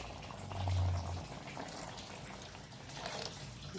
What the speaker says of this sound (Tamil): இப்போ நம்ம புளி தண்ணி ஊற்றுனது கொதிச்சு வந்துடுச்சு.